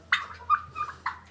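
A turkey gobbling in a few short, rattling bursts, close by and fairly quiet, with pauses between calls.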